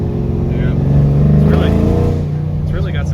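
A 416 stroker Camaro engine rumbles loud and close on its first startup, a deep throaty idle with a rise in revs, while a person talks over it.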